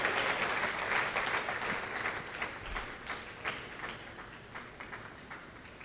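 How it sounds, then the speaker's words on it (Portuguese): A church congregation claps after a sermon blessing, a dense wash of applause at fairly low volume that thins into scattered, distinct claps as it tapers off. "Essas palmas foram para mim."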